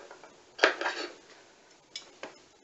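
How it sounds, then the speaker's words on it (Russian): Scissors cut through knit jersey fabric for a peplum blouse, giving a few quiet snips and rustles: a louder crunch near the start, then two short clipped cuts later, close by with no talking. "Это я режу"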